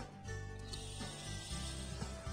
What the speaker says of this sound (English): This is a fan spray very commonly seen today in most of our landscapes